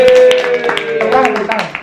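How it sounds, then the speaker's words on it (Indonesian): The hosts of an in-person Indonesian talk show clap as an audience, giving a short burst of brisk applause close to the mic while voices talk over it. "Tepuk tangan kita jadi penonton hari ini."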